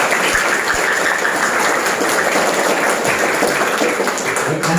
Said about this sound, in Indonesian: Tepuk tangan meriah buat kita.